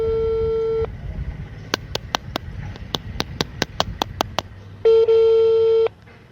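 A telephone call rings out unanswered: long steady ringback tones at the start and end frame a series of sharp evenly spaced dialing beeps, clear and close with no talk.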